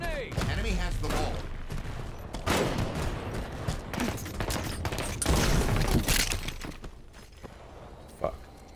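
Rapid bursts of gunfire in a Halo 5 Big Team Battle match, dense and continuous, layered with game announcer callouts and player voices throughout.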